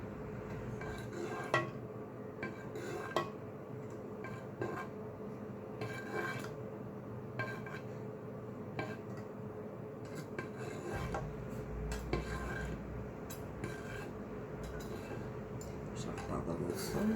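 Soft repeated scraping and rasping of a knife cutting curd into a grid in a pan, irregular strokes against metal, with faint clinks at low level.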